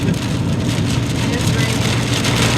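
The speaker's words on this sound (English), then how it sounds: "And the sky just opened up. And it's raining." Heavy rain suddenly pours onto an RV-towing truck while driving near a campsite, a dense steady patter over a low engine hum, with constant loud wash throughout.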